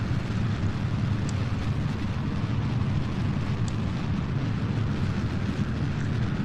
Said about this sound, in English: This is a hilarious way to launch a rocket.